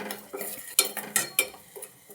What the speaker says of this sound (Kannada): ಇವಾಗ ಇಷ್ಟು ಇದನ್ನು ಚೆನ್ನಾಗಿ ಮಿಕ್ಸ್ ಮಾಡ್ಕೊಳ್ಳಿ.